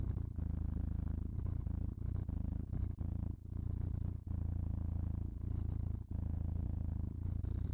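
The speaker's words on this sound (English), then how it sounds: "I want to be drowned in the purrs." A cat purrs up close, a deep, continuous rumble in steady breath cycles with brief gaps between inhales and exhales, loud and alone without talk.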